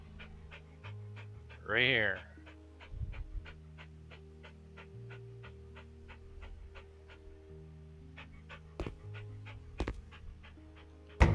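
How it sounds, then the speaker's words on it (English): Dog panting in the House Flipper video game, quick rhythmic breaths repeating steadily, with a brief whimper-like sound and a few clicks, while someone talks over it. "Shows the dog walking around."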